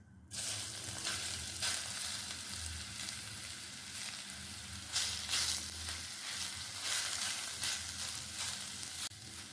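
Grated raw mango sizzles steadily in hot ghee with cloves, a dense continuous crackle that rises in short surges as it is stirred, close and fairly loud with no voices.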